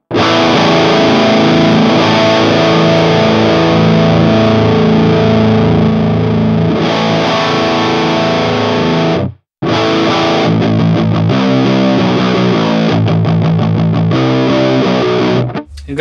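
High-gain electric guitar through an Orange amp model on a Valeton GP-100 multi-effects unit, heavily distorted loud chords and riffs played continuously with a brief cutoff near the middle, no talking.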